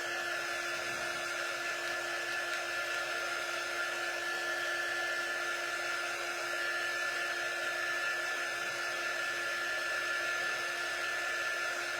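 A hair dryer blows steadily and continuously at close range, drying a chalk drawing, with a constant whirring hum and no talking.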